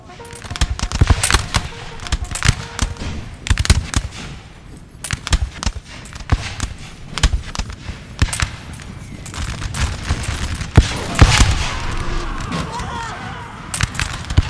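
Massed musket volleys crack in a line battle in Napoleon Total War, set at Borodino in 1812: dense, irregular bursts of shots near and far, with a rumbling roar swelling around eleven seconds.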